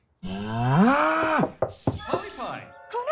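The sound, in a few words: cow mooing in a cartoon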